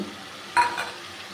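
A soaked spice paste is stirred into a frying pan during prawn and ash gourd cooking: a short, close scrape and sizzle bursts up for a moment, then settles into a low steady hiss.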